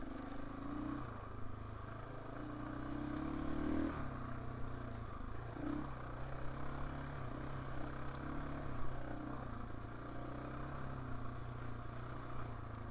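A KTM 450 EXC-F dirt bike engine hums steadily on a trail over blocks, a low continuous drone with faint scrapes and clatter, moderately distant and fairly quiet.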